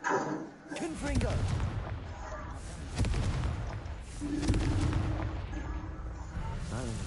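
Fiery blasts of the Confringo spell in the Hogwarts Legacy video game, a run of heavy booming bursts and crackling impacts rolling one after another amid battle noise, with a voice heard in between.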